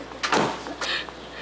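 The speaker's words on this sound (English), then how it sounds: "I have to close the door." A door swung shut with a short bump and a latching clunk, followed by a second brief knock, close by in a quiet room.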